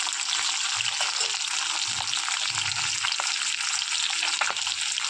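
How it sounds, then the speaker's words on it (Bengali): Fish heads frying in hot oil in a pan, giving a steady bright sizzle and crackle throughout, close and fairly loud, with occasional soft pops and low bubbling. "মাছের মাথাগুলোকে দিয়ে একটু ভালো করে ভাজবো"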